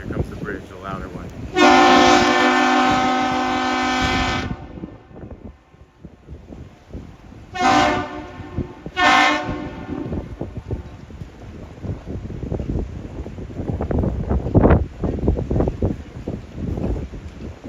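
Duluth's Aerial Lift Bridge horn sounds a long, loud harmonic blast answering the ship Federal Hudson passing through the canal on a rainy night, then two shorter blasts, with wind noise and rain around it.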